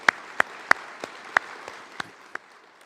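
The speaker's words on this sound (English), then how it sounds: "one more round of applause to our Vietnam-era veterans" Sparse, sharp hand claps from a small crowd at a Vietnam War veterans welcome home ceremony, about eight distinct claps spaced unevenly and fading toward the end, heard alone without talk.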